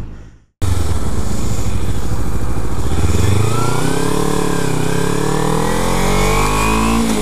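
A Kawasaki Ninja 300 fitted with All Balls bearings is ridden: its engine revs climb steadily after a brief drop, a loud and continuous mid-pitched drone rising in pitch as the bike accelerates.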